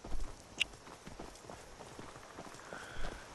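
A horse's hooves clop in a steady walking rhythm in the video game Skyrim, faint and close over quiet ambient game sound, with a brief sharp tick near the start.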